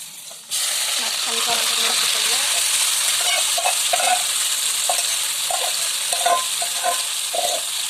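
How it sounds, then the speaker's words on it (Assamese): Meat fries with browned onions and spices in oil in a pan for pilau, a loud continuous close sizzle that starts abruptly and carries on with scattered stirring scrapes and pops, no one talking. "মছলা পিঁয়াজখিনি ভজা হৈ গ'ল এতিয়া মাংসখিনি মই ইয়াত দি দিব"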